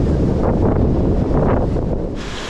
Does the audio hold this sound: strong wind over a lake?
yes